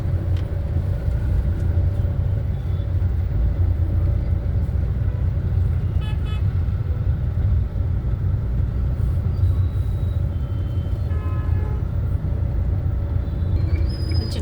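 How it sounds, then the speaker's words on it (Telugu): Road traffic passes near an Ambedkar statue in Bhimavaram, producing a continuous low engine rumble. Occasional short horn toots sound at a distance, with no talking. "ట్రాఫిక్ వల్ల బాగా ఎక్కువ ఉందండి ఈరోజు."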